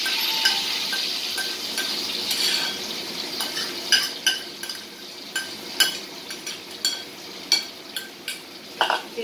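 Stuffed spine gourd (kakrol) frying in hot oil in a kadai gives a continuous bright sizzle, punctuated by a series of sharp metallic clinks and scrapes from a utensil against the pan.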